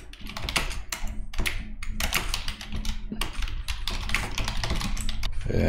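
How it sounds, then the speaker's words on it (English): Fast, steady typing on a computer keyboard, close and loud, with dense clicking keystrokes and brief pauses between bursts. "I'm just gonna type this so it goes into my muscle memory."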